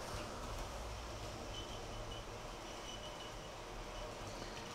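A model railway train runs steadily along the track, a continuous low rumble and faint rolling hum that holds an even level throughout with no talking.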